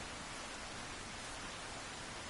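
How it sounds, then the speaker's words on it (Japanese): Heavy rain pours in Resident Evil 4 as a dense, steady hiss that fills the whole clip with no breaks. "めちゃくちゃ雨降ってるよ。"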